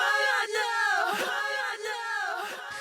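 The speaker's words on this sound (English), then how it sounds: "If it was a whole delay, it would sound like this" A lead guitar line in a pop punk/emo mix with a whole-note delay, its repeats trailing behind the notes in a dense, bright, sustained wash that stays loud throughout.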